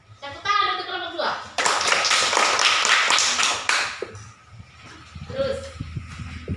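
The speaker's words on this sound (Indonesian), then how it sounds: "Tepuk tangan untuk kelompok 2." Children in a class clap for group 2 in a loud burst of about two seconds, preceded by a speaking voice; talk and light tapping resume as the applause dies away.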